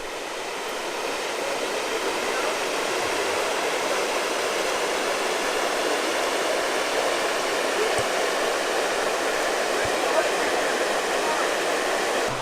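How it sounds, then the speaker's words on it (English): Spring water flows out from a bluff in Shannon County, Missouri, a steady broadband rush that holds evenly throughout at moderate level with no talk. "Here you can see the water coming out from the bluff."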